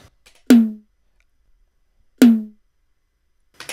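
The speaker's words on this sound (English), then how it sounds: "The tom sounds like this." A tom drum sample from a dubstep snare rack strikes twice, each a punchy, resonant low hit with a quick decay, separated by silence and standing alone.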